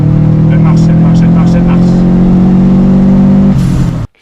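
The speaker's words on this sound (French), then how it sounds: "dès qu'il y a un bout de ligne droite, tu mets les gaz" Subaru Impreza GT Turbo GT300 accelerating hard on a circuit straight, a loud steady engine drone climbing under speech before cutting off abruptly at the rev limiter.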